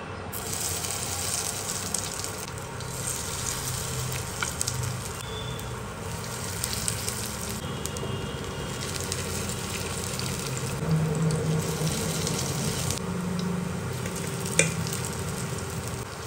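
Masoor lentil fritters sizzle and crackle steadily in hot oil, a continuous close bubbling frying sound with faint stirring and no talking.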